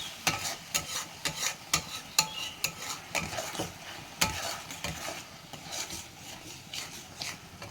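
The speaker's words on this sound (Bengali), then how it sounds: "এবারে আদা রসুন পেঁয়াজ লঙ্কার পেস্ট দিয়ে দিলাম, দিচ্ছি পেস্ট। এখন এই যে নাড়াচ্ছি।" A spoon stirs a ginger, garlic, onion and chili paste frying in a pan, with repeated scraping knocks in an irregular rhythm over a soft, continuous sizzle, close and clear with no talk.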